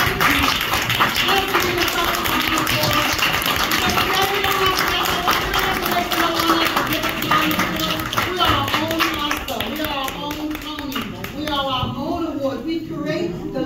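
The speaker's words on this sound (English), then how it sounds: "Just get up and give yourself a round of applause." Graduates at a 2024 graduation ceremony clap together in a sustained round of applause, steady and dense throughout, with a few voices rising over the crowd toward the end.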